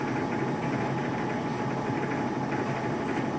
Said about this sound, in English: Now I'm going to turn it on so you can see just how impressive this NEMA 42 stepper motor is.